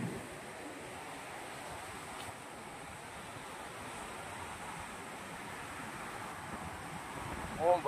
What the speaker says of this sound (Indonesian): Oh, ombaknya sangat besar sekali.